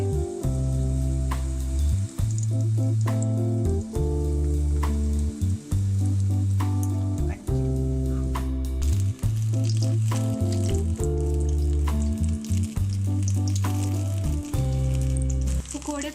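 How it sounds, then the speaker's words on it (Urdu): Pakora batter fries in hot oil, a steady sizzle running throughout beneath loud rhythmic background music. "ان کو ہم فرائی کر لیں گے۔"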